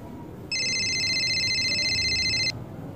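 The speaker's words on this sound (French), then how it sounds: "Alors, mon téléphone sonne." A mobile phone ringtone plays as a steady electronic tone for about two seconds over a low background rumble, with no speech.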